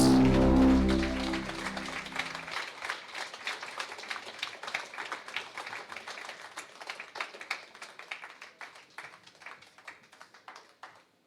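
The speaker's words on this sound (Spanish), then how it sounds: "Dale fuerte el aplauso a Jesús." Church congregation applauding during a Spanish-language sermon, a dense run of claps after a brief tonal sung or spoken opening, steady and moderately loud for several seconds.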